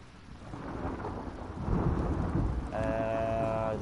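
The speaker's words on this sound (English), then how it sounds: "This lightning is loud though." A thunderstorm in a video game rumbles loudly with heavy thunder over steady rain, then a sustained tonal sound cuts in near the end.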